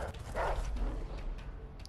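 A dog in the video game A Way Out barks and yips in a short, loud burst over a noisy, rumbling game soundscape, with no talking.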